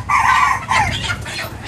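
A live desi chicken at a chicken cutting shop in Kalahandi gives a loud, close, drawn-out squawking cluck in two quick bursts, with no talk.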